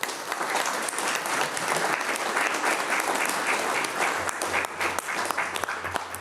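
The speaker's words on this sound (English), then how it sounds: "A round of applause for Jonathan." Dense, steady applause fills the chamber at a Salinas city council meeting, many hands clapping together at an even level throughout, close and fairly loud with no voices on top.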